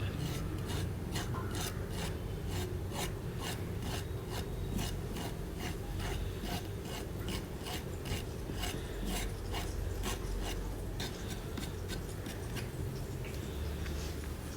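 A knife scrapes the skin off raw bananas for Kerala-style banana chips, making a steady run of close, rhythmic rasping strokes repeated evenly throughout, with no voices.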